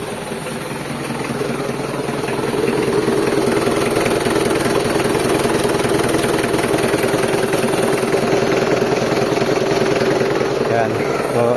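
A Mitsubishi Adventure engine runs at a steady idle, loud and close, with a constant mid-low drone that holds for the whole stretch after a brief rise at the start.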